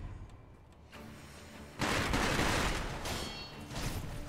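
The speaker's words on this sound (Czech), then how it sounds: "To jsou brokovící." Shotgun blasts in a video game: after a quieter stretch, a loud broadband burst of gunfire erupts and keeps roaring in overlapping, rumbling waves, with another surge near the end.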